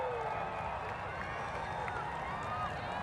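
A large crowd at Saluki Stadium roars continuously in the distance, a steady wash of cheering and excited noise.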